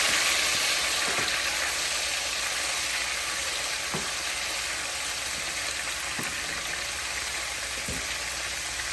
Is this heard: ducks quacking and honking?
no